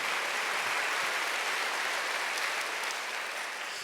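A church congregation applauds during a Sunday worship service, a steady, dense wash of many hands clapping that holds evenly for the whole stretch, filling the room without pause.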